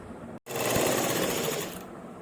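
A sewing machine stitches lace onto the edge of a dupatta in one close, continuous whir that runs for nearly two seconds after a brief pause.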